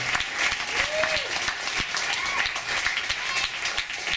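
An audience at a grown-up storytime show applauds, a dense continuous wash of clapping that holds steady and loud throughout, with a few faint voices whooping beneath it.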